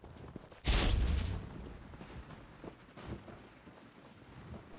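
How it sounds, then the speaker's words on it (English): A sudden loud thunderclap bursts out in a video game, then settles into a steady wash of rain and distant rumbling that continues to the end. "Want a little thunder? A little bit of lightning?"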